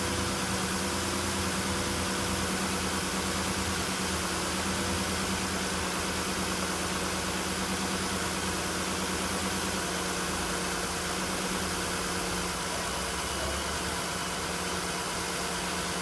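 The engine of a Nissan Murano Z51 idles while warming up, a steady, even hum with faint vibration, continuous and unchanging for the whole stretch, with no talking.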